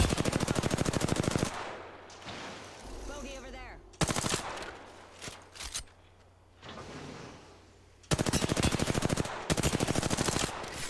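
Rapid automatic gunfire from the Apex Legends battle royale game, loud sustained bursts at the start and end with a quieter gap of scattered shots, clicks and effects in between.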